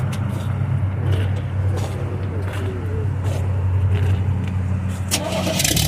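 A rat rod car's engine runs at a cars-and-cruise show in Avon, Indianapolis. It gives a loud, steady, close idle rumble with a deep low hum and a sharper burst near the end.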